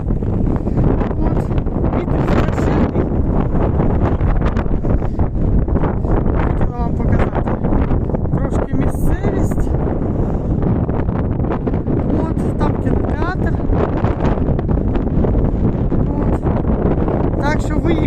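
Strong wind buffets the microphone in a constant, heavy roar throughout, with a voice talking faintly underneath, outdoors in New Glasgow, Canada.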